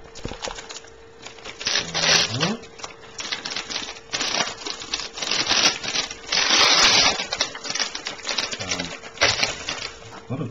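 Paper and tape crackle and tear as a package wrapped in newspaper is opened, in bursts of crinkling and ripping with short pauses between, close up.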